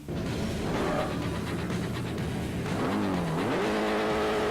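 A Nissan S14 four-cylinder engine in Forza Motorsport 4 snarls and revs hard, its pitch dipping and then climbing steeply near the end over constant road and tire roar.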